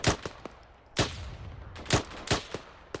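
Rifle gunfire in a video game cracks out in sharp, loud reports, an irregular string of single shots and quick pairs with short gaps between them and no talking.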